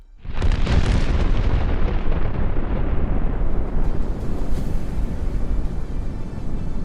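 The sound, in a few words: explosion sound effect in Superman comic narration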